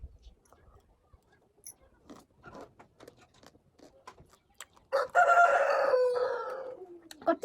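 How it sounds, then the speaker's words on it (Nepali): A village rooster in Nepal lets out a single loud, drawn-out crow near the end, after a stretch of faint rustling and soft, quiet talking. "कति कराउँछ हो कुखुरा"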